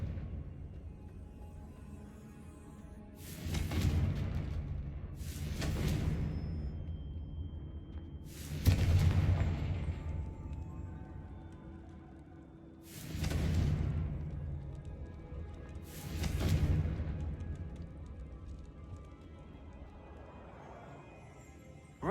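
Confringo blasting spells go off in a Hogwarts video game: five separate, fairly soft bursts, each with a quick whooshing attack and a short fading rumble, spaced a few seconds apart over a quiet background.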